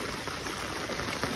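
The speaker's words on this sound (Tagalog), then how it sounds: "Tignan ang baha ko" Flood water pours and rushes around a house in a rushing, continuous wash with small splashes, close and fairly loud.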